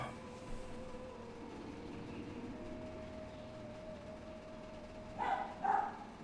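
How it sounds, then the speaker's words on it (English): A dog in the video game World of Warcraft gives two quick barks close together near the end, over a steady low hum and faint background ambience. "Bark, bark."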